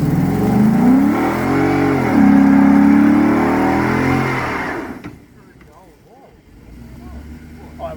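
Ford Mustang 5.0 V8 revving hard during a traction roll on a totaled car, a loud, rising engine roar that holds for about four seconds before dropping off abruptly, with people talking nearby.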